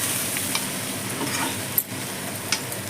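Chicken pieces frying with masala in a pan make a soft, steady sizzle, with light scattered clicks and occasional spatula scrapes close by.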